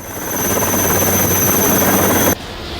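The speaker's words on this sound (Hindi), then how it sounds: "जवानों ने हेलीकॉप्टर से लोगों को एयरलिफ्ट कर सुरक्षित स्थानों पर पहुंचाया।" An Indian Coast Guard helicopter airlifting people during flood rescue, its loud, steady rotor and engine drone close by, dropping away abruptly near the end.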